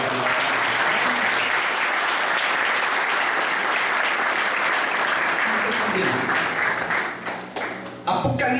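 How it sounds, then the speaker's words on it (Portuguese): A church congregation applauds in sustained, dense clapping that fills the room, tapering off near the end as voices and other sounds return. "Vamos aplaudir Jesus pela vida do Pai."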